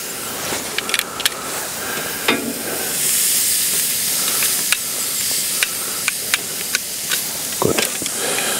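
Pork loin sears on a grill with a steady close hiss and sizzle, punctuated by scattered sharp crackles and tong clicks, while a person speaks German over it.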